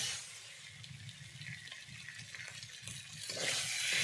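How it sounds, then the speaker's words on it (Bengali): Water poured into a pan of fried boiled potatoes for an egg curry, a steady splashing, gushing pour close by that builds louder toward the end. "এবারে জল দিয়ে দেবো। জল দিয়ে দিয়েছি।"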